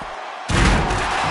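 A double underhook brainbuster slams onto the mat in a WWE ambulance match played on PS5, a sudden heavy impact that booms loudly and rumbles on with crowd noise.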